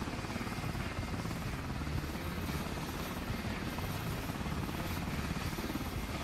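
Police helicopters in the video game Ride to Hell whir steadily with a loud, unbroken rotor roar that fills the scene without pause.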